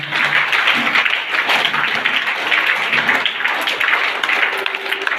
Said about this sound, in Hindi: हमारे गुरु जी के लिए जोरदार तालियां होनी चाहिए